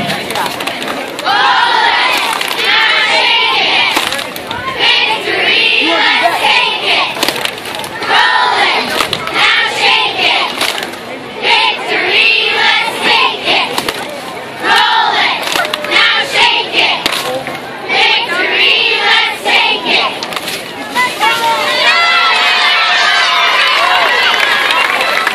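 A group of young children chant a cheer together in unison with shouted rhythmic calls at a high school football game, loud and near, repeating in bursts with short pauses between phrases and crowd noise around them.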